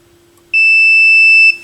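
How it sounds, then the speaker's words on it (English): A multimeter continuity tester gives a single sharp, high electronic beep lasting about a second, loud and steady, over a faint low hum, while testing turntable tonearm wires. "if there's continuity, it'll beep"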